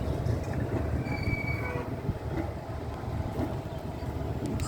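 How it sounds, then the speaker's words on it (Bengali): A train rolls past with a heavy, steady rumble of wheels on rails and brief high metallic squeals, with no voices. "ট্রেনও গেল"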